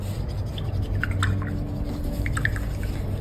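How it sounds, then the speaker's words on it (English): An acrylic-paint brush being rinsed in water for Sumi-E painting, giving soft, scattered drips and light splashes close by over a steady low background hum, with no talking. "Wash the brush properly so that no color is left inside."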